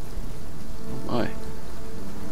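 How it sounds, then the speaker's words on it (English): Steady rain falls in the Ravage Livonia video game, a dense, even hiss throughout with a brief louder swell near the middle. "It's the kind of wetting rain that I would want to get out of in real life."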